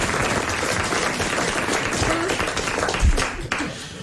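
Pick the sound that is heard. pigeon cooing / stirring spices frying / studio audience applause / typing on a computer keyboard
studio audience applause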